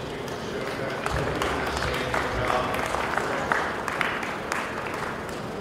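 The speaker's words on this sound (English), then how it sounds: "give a round of applause for each" A crowd at a county fair swine show claps for the exhibitors, a steady mid-level patter of applause with a murmur of voices underneath throughout.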